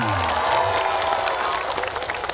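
Dense applause from a big gathering of Indramayu residents fills the space, loud and continuous, with faint cheering and a short voice at the very beginning.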